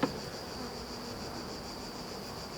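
Buckfast honey bees swarm around beehives with supers freshly placed on top, a dense, continuous high buzzing that fills the air, steady and close, after a brief knock at the start.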